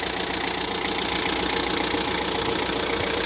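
A 2006 Hyundai Porter TCI double-cab diesel truck idles with a steady, slightly knocking diesel clatter, loud and close, with a continuous even rumble and no talking.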